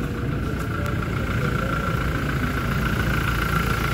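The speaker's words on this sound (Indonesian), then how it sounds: "Ini suara mesin dari 2GD 2400cc turbo" A Toyota Hilux 4x4 from 2021 with the 2GD 2400cc turbo diesel engine idles at close range, a steady low diesel rumble with a faint high whine running through it, with no voices.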